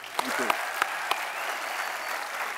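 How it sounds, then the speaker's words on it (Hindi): A studio audience at the Kapil Sharma Show claps steadily in dense, sustained applause with a few louder individual claps, while a voice talks over it. "एक बार फिर से तालियां बनती हैं।"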